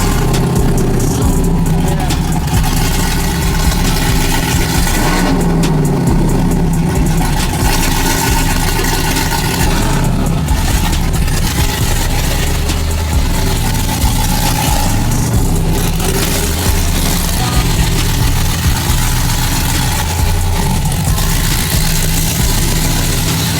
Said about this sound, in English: we got like a flange on the header to the pipe, and I think it came off, and that's why it's really loud